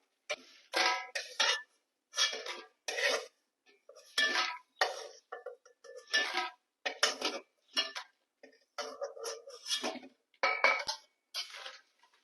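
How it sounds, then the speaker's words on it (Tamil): Roasted chillies scraped and shifted from a pan onto a plate, a series of quick metallic scrapes and clinks in short irregular bursts, close and fairly quiet, with no talking. "இப்போ வந்து இதை வேற பிளேட்டுக்கு மாத்திக்கலாம்"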